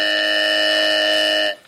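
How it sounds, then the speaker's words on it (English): A 1940s radio game show time-up buzzer sounds as one loud, sustained electric tone lasting about a second and a half before cutting off abruptly. "You have 20 seconds before Beulah the buzzer says, it's all up, Mr. Bloom."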